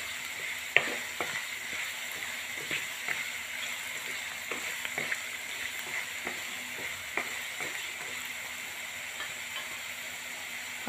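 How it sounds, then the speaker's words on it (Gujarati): Masala and potatoes roast in a pan for moraiya khichdi, giving a steady close sizzle with scattered clicks and scrapes from stirring, and no talking. "તમે જોઈ શકો છો કેટલો સરસ મજાનો શેકાય છે"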